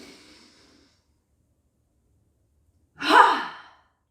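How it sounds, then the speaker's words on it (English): A single deep breath drawn in during a grounding yoga practice, a soft airy exhale fading at the start, then a louder, rushing inhale near the end, alone in quiet. "Breathe in."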